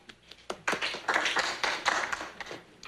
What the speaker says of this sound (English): Oh, thank you for that smattering of applause.